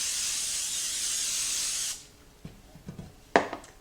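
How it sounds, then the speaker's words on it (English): Nonstick cooking spray hisses into a 9 by 5 by 3 inch loaf pan in one steady two-second burst, followed by light taps and clatter of the can and pan. "What I'm going to do is spray it with some nonstick cooking spray."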